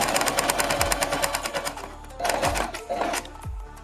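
Sewing machine stitching the edges of a kurti neck strip, a close rapid clatter of stitches in short runs with brief pauses between them.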